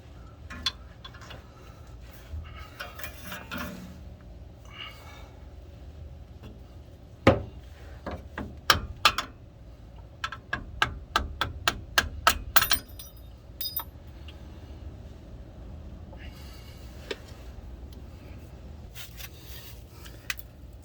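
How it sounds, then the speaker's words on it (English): A hammer strikes a flat blade screwdriver to knock loose the retaining clip holding a brake hose to a Nissan Frontier differential, producing a cluster of sharp, light metallic taps in quick succession amid faint workshop background. "I use a flat blade screwdriver and a hammer to remove the retaining clip that holds the brake hose"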